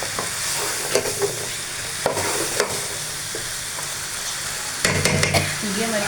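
Ridge gourd frying in a pan gives a continuous close sizzle, broken by occasional scraping stirs and a louder burst of crackling near the end, with no speech.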